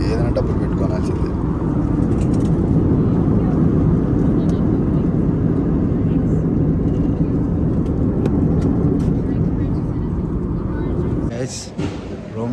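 Passenger airplane landing at a Rome airport, heard from inside the cabin as a loud, steady engine and airflow roar that eases off toward the end, with a brief clunk near the close.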